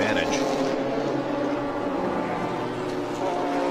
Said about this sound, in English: Porsche's Cup Series of 911 race cars